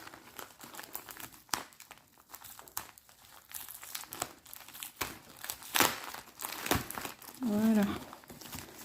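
Protective packaging being unwrapped from a diamond-painting table decoration: continuous crinkling and rustling of wrap with occasional sharp tearing, close up, while a person talks intermittently.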